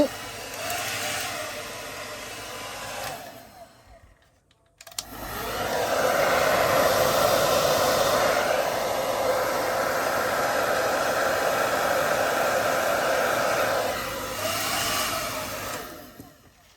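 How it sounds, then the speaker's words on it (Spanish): A hair dryer blows warm air over a scale-model M109 self-propelled howitzer hull, a loud steady whoosh running unbroken for about ten seconds after a brief pause and quieter start. "le aplicamos el secador"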